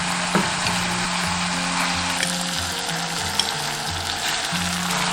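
Steady frying sizzle from a pan of stir-fried clams as tofu is laid in, a continuous bright hiss with faint scraping and low kitchen hum, no voices.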